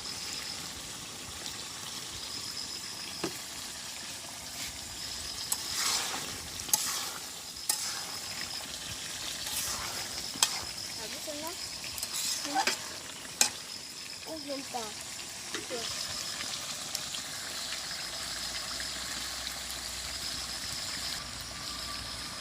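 Meat curry stirred and fried in a pan in a village kitchen, a steady soft sizzle under scattered scraping and clinking of the spoon, close and moderately quiet with no talk.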